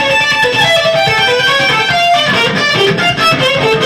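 Heavily distorted electric guitar plays a fast melodic line, loud and continuous with no pauses throughout.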